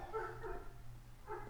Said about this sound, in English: I'm sorry for the dog.